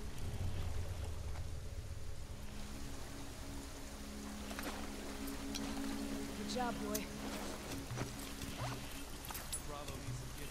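A motorboat engine in The Last of Us Part II drones steadily while water splashes around it, with a voice speaking briefly over the noise.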